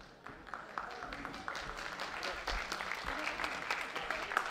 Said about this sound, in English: Thanks for the kind applause.